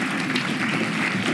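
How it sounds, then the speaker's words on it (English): Steady audience applause for a congressman at a national conservative student conference, a dense wash of many hands clapping at once. "Let's give him a round of applause."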